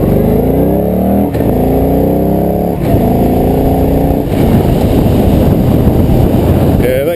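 A Victory Gunner cruiser motorcycle engine runs loud and close, its note climbing through repeated rising revs as it pulls up to speed, with heavy wind rush underneath.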